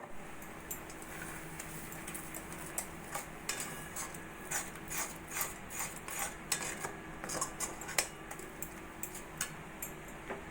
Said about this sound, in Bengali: দুধ দিয়ে কর্নফ্লাওয়ারটা গুলে নেবো